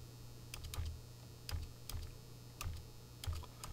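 Bursts of keystrokes on a computer keyboard as a part number is entered, coming in short clustered runs with brief pauses between them, close and fairly quiet with no talking.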